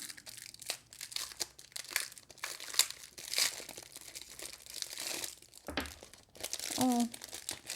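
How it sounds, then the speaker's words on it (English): Close, crackly crumpling of plastic sticker packaging, with bursts of crinkling and tearing throughout, then a brief squeaky sound near the end. "I don't want to crumple that sticker."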